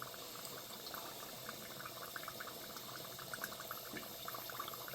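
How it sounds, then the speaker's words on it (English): Corned beef egg rolls deep frying in hot oil at about 400 degrees during their second fry: a steady, dense bubbling sizzle that stays even and unbroken throughout, with no talking. "now we're going to go in for the second fry. We've got a hot oil now"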